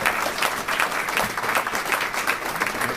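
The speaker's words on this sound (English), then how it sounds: "Ladies and gentlemen, please give a round of applause to Mr." Applause from the audience at a defense disability awards ceremony greets Mr. Samuel Drummond, a dense, fairly loud wash of many hands clapping continuously for a few seconds.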